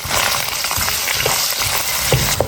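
Scallions, ginger, garlic, dried chilies, Sichuan peppercorns, chili bean paste and hotpot base drop into plenty of hot oil in a wok, giving a loud, steady, continuous sizzle with crackling pops throughout.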